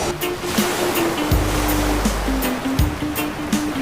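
Atlantic Ocean surf at Fort Lauderdale beach, a continuous broad wash of breaking waves with steady rushing noise, fairly loud, and a droning tone running through it.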